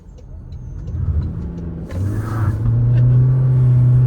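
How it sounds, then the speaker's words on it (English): A Toyota Corolla Cross Hybrid pulls out from a right-hand turn as its front wheel slips: a close, low engine rumble swells midway with a brief rough burst, then settles into a louder steady drone. "just pulling out from that right-hand turn, you may have heard the front wheel slipped"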